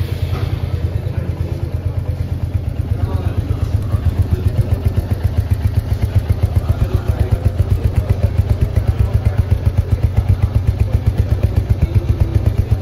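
A motorcycle engine started and left running, idling in a steady, loud, rapid mechanical pulse with faint clatter, close to the microphone throughout.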